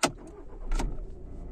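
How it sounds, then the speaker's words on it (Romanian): A 2014 Volkswagen Passat B7 with a 2.0 TDI diesel cranks and fires up: a sharp click, then a brief starter whirr and the engine catching into a low, close rumble. "S-a pornit mașina."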